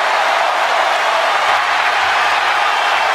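Wrestling arena crowd roaring for LA Knight, a steady, dense wash of cheering and applause with a faint low hum underneath, continuous throughout.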